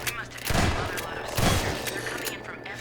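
Turret gunfire in Half-Life 2, with two heavy bursts of shots cutting through a busy background, and a voice talking over the game sounds.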